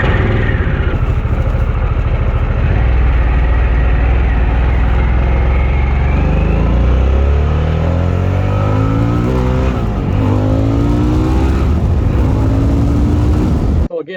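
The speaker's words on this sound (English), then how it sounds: "So here's some audio of starting the bike, idling, and then accelerating." Harley-Davidson Sportster S motorcycle starts, idles with a loud throbbing rumble, then revs and accelerates in rising sweeps before cutting off, close and powerful with no talking.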